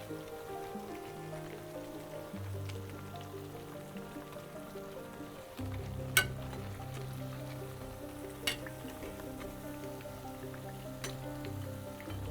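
Pancake batter fries in sunflower oil in a pan, a soft continuous sizzle and crackle with a couple of brief clicks, steady and close.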